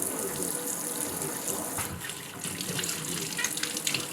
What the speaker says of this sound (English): first we're going to wash 6 apples